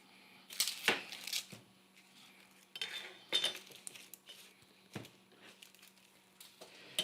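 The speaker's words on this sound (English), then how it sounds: "we're basically going to cut the root end off. We're going to cut the top off." A knife trims the root end and top off a vegetable on a board, producing several separate chops and clunks with pauses between them. A few clinks of utensils and dishes mix in, heard close and fairly quiet, without speech.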